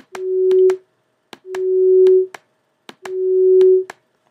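Synthesizer tone with a slow bowed or blown style attack and sustain, played three times in a row: each note swells gradually to full loudness, holds steadily, then stops, with short clicks at the starts and ends.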